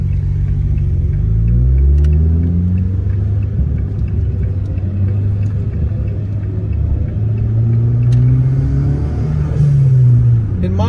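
Truck engine rumbling loudly and close as it rolls into a speedway early in the morning, a deep steady drone with slow pitch rises and falls, a few faint voices beneath.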